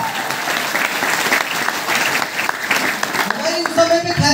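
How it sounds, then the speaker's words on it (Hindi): Loud, sustained applause from an audience at a motivational meeting, dense clapping filling the room, with some voices and a few tonal sounds rising near the end. "जोरदार ताली आपके लिए"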